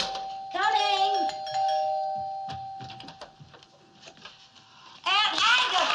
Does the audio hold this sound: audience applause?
no